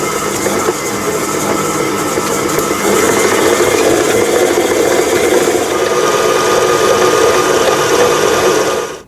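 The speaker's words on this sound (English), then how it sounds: "you want to whip this on a medium setting on your mixer or hand mixer for about 3 to 4 minutes." An electric mixer whips lemon sugar cookie dough on a medium setting, a continuous motor whir with a faint rhythmic rattle that steps up slightly in loudness partway through and then stops.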